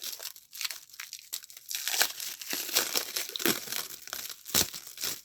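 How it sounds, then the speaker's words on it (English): Wrapping on a package crinkles and crackles in close, irregular bursts as it is pulled open, with short tearing rustles and brief pauses between handfuls. "So we gotta get this unwrapped."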